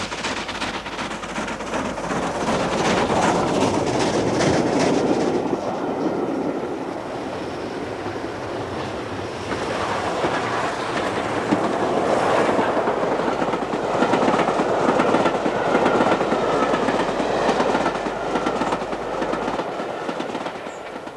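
A train runs on the Settle and Carlisle railway line, a steam train, with steady rumbling and clickety-clack of wheels rolling continuously close by, loud and sustained without talk.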